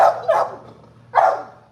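An old 10-year-old dog barks during bite work training, three close, loud barks: two quick ones together, then a pause and a final bark.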